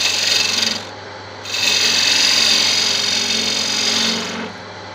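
A wood lathe trims an Art Deco candlestick with a continuous rasping cut that breaks off briefly, then resumes, steady and close.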